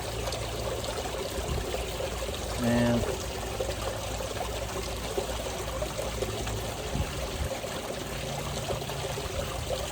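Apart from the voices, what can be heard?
water running through a gold pan while cleaning concentrates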